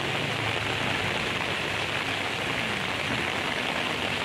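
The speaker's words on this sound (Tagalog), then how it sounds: "Ito yung bagyong Aghon na sinasabi ng Weather Pag-asa" Heavy typhoon rain from Typhoon Aghon pours steadily, a dense continuous hiss of water drumming on surfaces with no pauses, loud and close.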